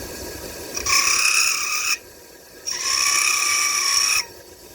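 A chatter tool cutting a spinning top on a running wood lathe produces a gritty, high buzzing screech in two sustained passes, with the motor droning between them.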